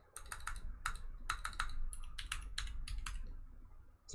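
Quick, close clicks of typing on a computer keyboard come in uneven bursts of keystrokes, crisp and fairly quiet against a low background hum.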